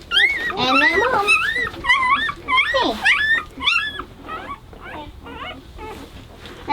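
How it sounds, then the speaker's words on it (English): Newborn puppies and their mother dog whimpering and yipping close by, a steady stream of high, wavering squeals and whines with a brief spoken word at the start. "that's all the puppies. All those little puppies."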